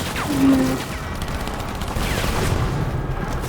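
Rapid bursts of gunfire from the video game Split Fiction, a near, steady fusillade with a louder peak early on, running throughout with no voices.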